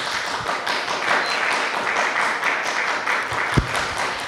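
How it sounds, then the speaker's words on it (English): A crowd at a school board candidates forum claps in a dense patter of applause that carries on steadily before thinning out, a single louder clap near the end. "Can we keep the clapping down?"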